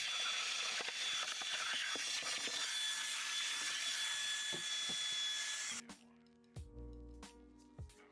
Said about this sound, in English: using the pump spray and the drill brush here to remove this mark and clean this carpet up